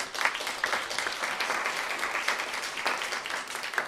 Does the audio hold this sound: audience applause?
yes